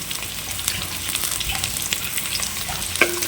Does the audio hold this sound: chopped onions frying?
yes